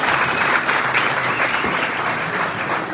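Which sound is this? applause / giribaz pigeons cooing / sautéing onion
applause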